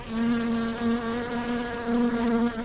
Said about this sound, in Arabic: لقيت دبانة رزلة عمالة ترزل عليك في الهواء رايحة جاية